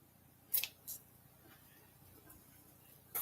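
Scissors trimming paper for a folded bookmark card: three or four short, crisp snips spaced apart, close and quiet in an otherwise still room.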